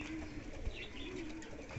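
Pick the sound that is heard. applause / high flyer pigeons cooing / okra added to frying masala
high flyer pigeons cooing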